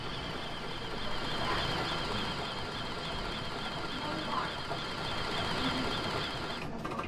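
A Juki sewing machine, pedal-driven, winds its bobbin with a continuous soft mechanical whirr at moderate distance, steady throughout with no pauses.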